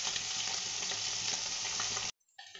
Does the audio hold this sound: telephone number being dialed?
no